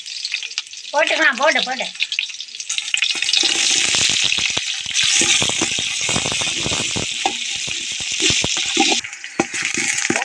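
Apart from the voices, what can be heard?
chopped onions frying in oil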